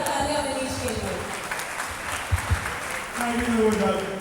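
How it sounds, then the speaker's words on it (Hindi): An audience claps at a staged talk event, a steady wash of applause lasting the whole moment, with a voice speaking over it. "जोरदार तालियां मनीष के लिए।"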